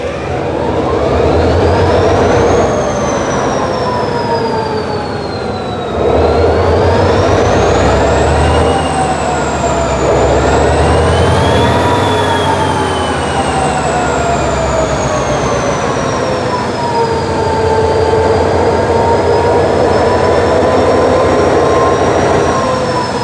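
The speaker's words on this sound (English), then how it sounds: "enjoy the sounds of these mighty EMD motors come to life." Big EMD diesel locomotive engines start up, rumbling loudly and steadily, with whining, gliding tones rising and falling as they rev up, close by.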